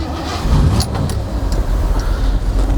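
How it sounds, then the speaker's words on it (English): A 1974 Ford Bronco engine with a turbo-style muffler runs close by with a fairly quiet, steady low rumble and a few small clicks and rattles on top. "starting it up, it's nice and quiet. That in part comes from it's got a turbo style muffler"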